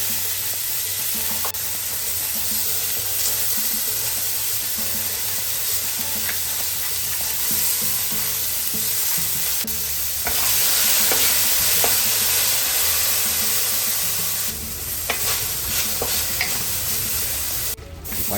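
Long beans sauté in a hot pan with salt and pepper, giving a steady close sizzle with scraping stir strokes and occasional clatter, continuous throughout without talk.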